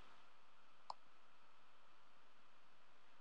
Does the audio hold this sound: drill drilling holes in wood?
no